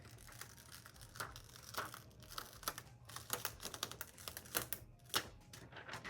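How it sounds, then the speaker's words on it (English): Siser Metallic EasyPuff heat transfer vinyl is peeled off a cooled shirt, giving a close, quiet run of crackling, crinkly ticks and small tearing snaps in an irregular rhythm, with no voices. "I'm going to go ahead and peel it."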